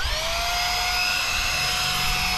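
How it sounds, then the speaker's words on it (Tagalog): Portable vacuum cleaner running inside a camper van, a steady loud motor whine with sustained high tones and airflow hiss, unbroken throughout. "Unahin na muna natin itong vacuum cleaner."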